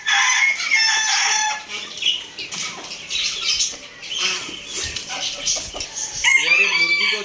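Chickens cluck and squawk loudly and continuously on a small farm, with bursts of excited calling from several birds close by.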